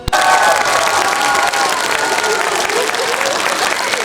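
At a holiday festival in Zakarpattia, an audience gives young dancers loud, close applause mixed with cheering and a few children's shouts, a dense, continuous burst of clapping throughout.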